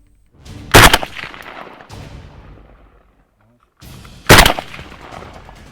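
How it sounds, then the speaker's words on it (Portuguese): Two sharp, loud gunshots ring out at a target-shooting stand during a New Year's Day event, several seconds apart, each followed by a decaying tail over a murmur of background noise. "Este é um momento em que não deve faltar o tiro ao alvo."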